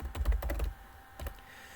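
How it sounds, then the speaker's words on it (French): Quick bursts of keystrokes clatter on a computer keyboard, a rapid run of taps followed by a pause and a couple more presses, close and clear. "Vous allez sur internet et vous tapez le mot accolade."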